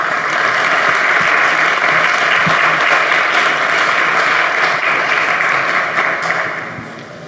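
An international forum and expo audience welcomes a speaker with loud, sustained applause, a thick continuous wall of clapping that tapers off near the end.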